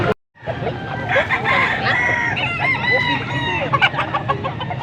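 Roosters and chickens at a gamefowl market in Angeles City, Pampanga cluck and crow close by, several birds calling over one another against market hubbub.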